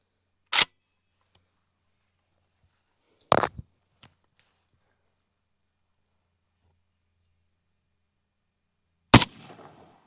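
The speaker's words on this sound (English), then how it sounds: "All right, guys, here we go with the sand." Three sharp, isolated AK rifle shots fired into sand at a range, spaced several seconds apart, each a loud crack with a brief tail and quiet between them.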